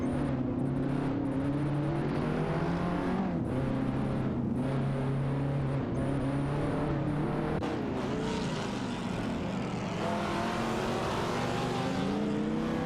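Race cars in a racing video game, a BMW M5 and a Dodge Viper SRT, roar steadily with droning engine tones that shift pitch as gears change, loud and continuous with no talk.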